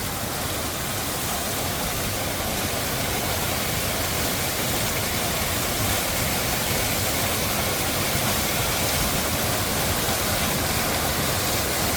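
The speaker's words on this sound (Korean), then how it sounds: "엄청난 물 폭포를 보십시오. 어마어마합니다." Large waterfall in a Bukhansan valley pouring heavily, a dense, unbroken roar of falling water that stays loud and steady throughout with no voices.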